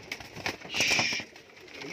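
Pigeons at a pigeon keeper's loft coo softly and at a distance, with one longer throaty call rising in the middle over light background noise.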